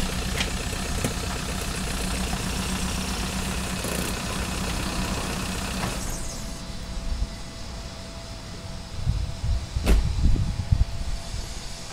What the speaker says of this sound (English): but that was the sound of the D4D diesel